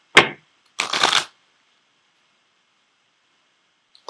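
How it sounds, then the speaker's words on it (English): Cards from an oracle deck of Ascended Masters cards shuffled in two short bursts, a quick riffle followed by a longer rustling shuffle, close and clear, then near silence with a faint tap at the end. "I am going to pull a card from the Ascended Masters deck for you as well."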